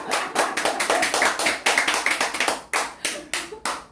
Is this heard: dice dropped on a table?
no